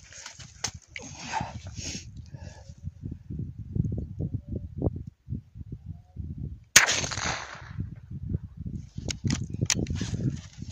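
A TOZ-8 small-bore rifle fires a single sharp, loud crack at a tethered boar outdoors. Scattered low thumps and rustling come before and after the shot.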